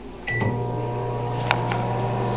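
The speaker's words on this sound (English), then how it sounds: "Switch this in the microwave for a minute." A microwave oven heats leftover pizza, starting with a beep and click and then settling into a steady low electrical hum that runs on without a break, heard close with no talking over it.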